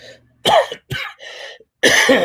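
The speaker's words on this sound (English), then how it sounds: "Still coughing. Excuse that" A burst of harsh, throaty coughs in quick succession, close and loud, with brief silent gaps between them and no talking.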